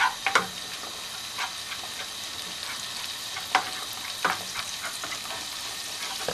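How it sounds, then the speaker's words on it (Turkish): Sausages lightly frying in a pan with pepper and tomato paste, a continuous close hissing sizzle punctuated by a few sharp utensil taps and stirs, with no one talking. "yani hafif kavuruyorum sosislerimi."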